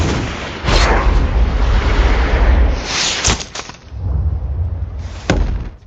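Heavy rifle shots from a sniper scene in the film American Sniper, three loud booming cracks spaced a couple of seconds apart, each followed by a rumbling tail.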